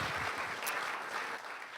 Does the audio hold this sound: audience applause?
yes